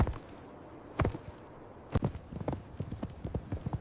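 Horse hooves pound in a quick, uneven galloping rhythm, close and fairly loud, with sharp thuds clustering into irregular beats over a rough background.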